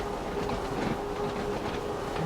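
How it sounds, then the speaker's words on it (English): A small two-car electric train runs on single track through rural Isle of Wight countryside in Train Sim World 2, giving a steady close rumble with a faint tonal hum and light rhythmic clatter throughout, with no voices. "seeing a small 2-car train operating a small island"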